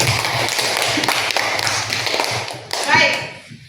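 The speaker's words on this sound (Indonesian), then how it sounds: "Tepuk tangan untuk Vera." Students in a classroom clap for a classmate, a short burst of brisk, close applause that tapers off. A voice speaks briefly near the end.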